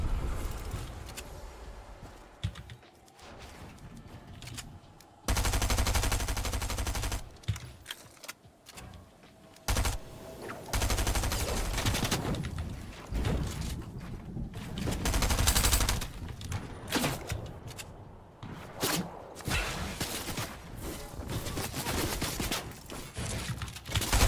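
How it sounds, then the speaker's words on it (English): Sprayed gunfire in the video game Fortnite, with repeated loud bursts of rapid automatic fire broken by short pauses, plus mechanical clicks and reload rattles between volleys. "how is that guy still shooting at me?"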